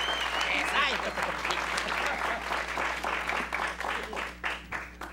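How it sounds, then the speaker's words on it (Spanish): Crowd applause at a lively audience event, full and steady clapping that tapers into scattered claps near the end, with people talking and calling out over it. "Este aplauso para toda la gente que siempre está aquí con nosotros."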